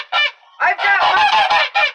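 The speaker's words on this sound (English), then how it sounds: "in with the goose that wants to lay on some eggs" A goose inside a coop honks loudly and close by, giving one short call, a pause, then a run of harsh, rapid honks that end in a final blast.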